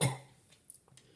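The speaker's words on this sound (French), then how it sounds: "Excusez-moi, je fais que tousser," A person with a sore throat lets out one short, harsh cough, followed by a few faint throaty catches, close to the mic.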